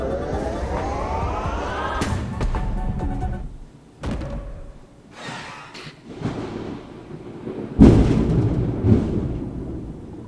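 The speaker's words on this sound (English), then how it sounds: "That was literally thunder outside of my house." Thunder rolls outside a house as a heavy rumbling crack followed by deep booms and a sharp loud clap near the end, partly layered with game sounds and low background noise.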